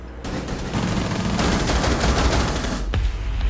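Dense gunfire from the video game Rainbow Six Siege, with rapid sustained shots blending into a continuous roar, a sharp crack near the end, and no talk over it.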